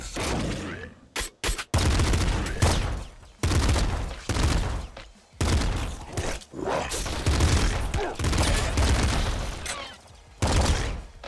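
Bursts of rapid weapon fire and explosions from the top-down shooter game Nuclear Throne crackle in dense volleys separated by short gaps, loud and punchy throughout.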